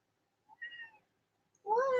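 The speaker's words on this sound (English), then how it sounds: "I was messing with the cats." A house cat meows once, loud and close, in a room at home, after a brief, fainter chirp-like sound a second earlier.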